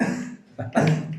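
A couple of short, rough coughs close by, separated by a brief pause.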